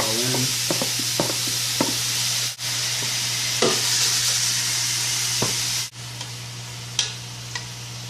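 Chicken frying in a pan, with a steady loud sizzle and crackle throughout, a few sharp pops and clicks, and a couple of brief dips as the pan is handled. Nobody talks.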